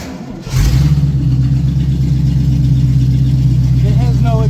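A 350 V8 car engine with no exhaust fitted fires up and runs with a loud, raw, rumbling drone that holds steady throughout. A voice starts talking near the end.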